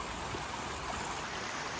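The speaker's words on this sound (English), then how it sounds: "there's quite a bit of water pouring out of that corner" Storm runoff gushes out of the corner of a recently excavated pond, a dense, steady wash of rushing water with no pauses, moderately loud and close.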